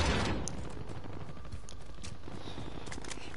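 Rapid video game gunfire bursts out in a busy, close exchange, with dense automatic shots and a few sharp louder cracks rattling over one another for the whole short stretch.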